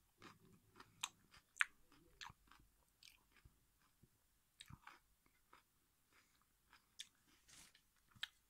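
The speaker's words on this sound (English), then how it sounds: "It's really crunchy." Close, crisp crunching from someone chewing a crunchy sliced green jalapeno, in irregular bites and chews with quiet pauses between, no talking.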